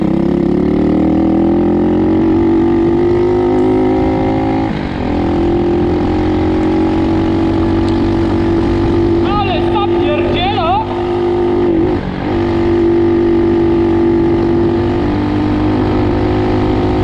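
A Loncin 110/125 motorcycle with tennis balls inside its tire rides along, its engine droning steadily and loudly up close for the whole stretch with slight shifts in pitch, and some brief squeaky rattles partway through.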